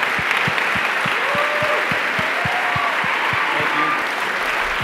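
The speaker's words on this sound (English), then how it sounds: "Let's have a round of applause for Jeff Bezos" Audience applause at a charity gala, a dense, loud wash of clapping from a large crowd sustained evenly throughout without any talk.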